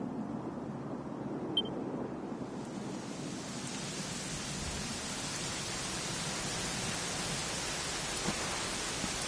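Steady rain falls throughout, a dense broadband hiss that swells after the first couple of seconds and holds an even, continuous wash with no voices.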